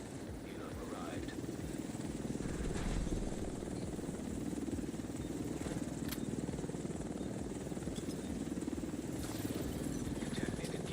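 A helicopter arrives in a video game, a low rotor chop thrumming steadily under game sounds and faint talk.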